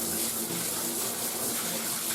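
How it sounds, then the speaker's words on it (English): Tap water runs steadily into a bathtub as it is rinsed out, a continuous close, even gush of splashing water with no talk over it. "So just to finish off the job, I'll just give the bath a rinse off"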